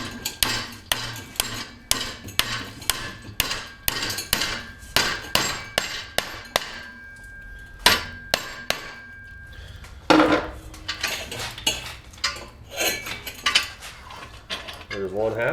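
A 5/16 steel round rod is clamped in a vise and worked into belt stays for a time attack roll cage, with loud, rhythmic metallic knocks about twice a second, a short pause, then more strikes.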